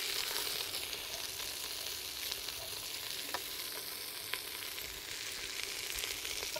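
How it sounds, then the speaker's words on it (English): Fennel and onion frying in olive oil in a pan, a steady close hiss and crackle of sizzling with small pops throughout and no talking. "So, fennel, onion, olive oil. It already sounds good."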